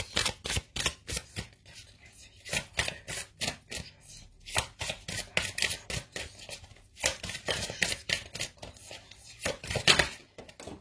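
Small advice cards shuffled and dealt by hand, a rapid run of crisp flicks and snaps in close bursts with short pauses between, steady and nearby with no talk.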